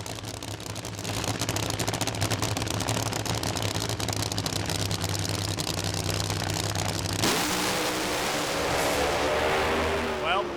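Outlaw nitro funny cars roar down Sydney Dragway on a drag racing run, a loud, harsh, crackling engine blast that holds for several seconds, then shifts into a thinner fading rasp and wind noise as the cars pass.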